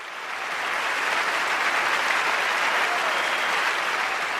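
A large audience at Carnegie Hall gives Pete Seeger a steady, dense wash of applause that swells slightly and holds full and even throughout, heard from within the crowd.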